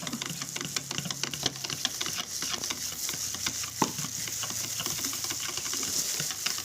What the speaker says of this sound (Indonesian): Kita tuangkan, kemudian kita aduk-aduk